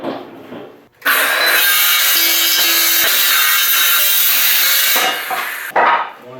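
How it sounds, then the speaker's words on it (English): A battery-powered Ryobi saw cuts through wood indoors, a loud steady buzzing cut of about five seconds that begins abruptly and stops just as sharply, with quieter handling noise before and after. "I've got my battery-powered Ryobi saw here"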